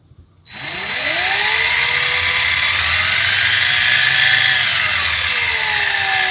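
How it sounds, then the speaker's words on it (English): A power drill starts after a brief silence and runs steadily at a low, even speed while drilling into an A-frame roof, its whine holding with slight pitch wobbles, close and loud. "I'm going to put my drill on low speed"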